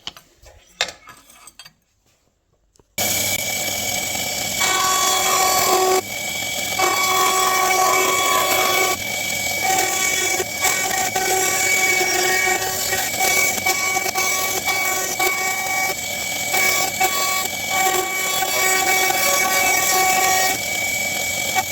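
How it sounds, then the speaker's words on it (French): After a few quiet seconds, a band saw starts and runs continuously with a loud whining hum and steady cutting noise as it cuts a knife handle. "je vais couper ça à la scie à ruban"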